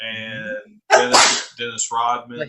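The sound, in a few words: sneeze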